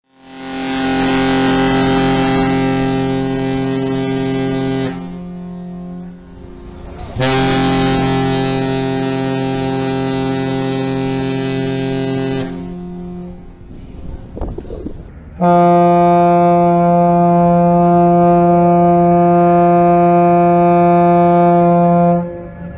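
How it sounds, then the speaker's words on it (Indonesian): The horn of the Pelni passenger ship KM Tidar sounds in Indonesia in 2022, weaker than before: two long, loud, droning tonal blasts separated by a short gap, then a brighter, higher-pitched sustained blast, close and without talk. "Dan juga mendengar suara klakson kapal pada tahun 2022, suara klaksonnya KM Tidar sudah berubah dan tidak sekencang dulu lagi."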